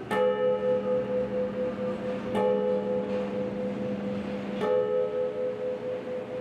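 A large church bell without a clapper, no longer rung, struck to sound its strike tone: three separate strikes, each with a bright attack and a long humming sustain that overlaps the next, heard alone without talk.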